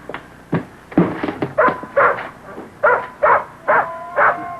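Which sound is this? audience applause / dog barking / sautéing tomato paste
dog barking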